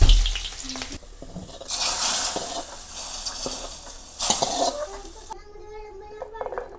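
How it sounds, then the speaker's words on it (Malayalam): Mustard seeds and shallots sizzling in hot oil, bursts of loud hissing sizzle with crackles that swell and fade in two main surges, with a voice talking between and over them. "കടുക് ഇട്ടു, ചെറിയുള്ളി ഇട്ട് കൊടുക്കുന്നുണ്ട്"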